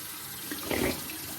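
Tap water runs briefly for a rinse, a soft splashing burst lasting under half a second at moderate volume against a quiet background.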